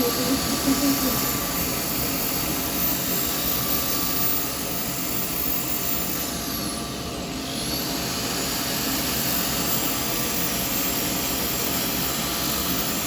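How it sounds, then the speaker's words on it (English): A steady, close whirring roar of a spinning lathe with a broad hiss of sandpaper against the turning yew wood of a small pot, continuous throughout. "I'm only sanding this bit here, because this bit I've got to curl round still."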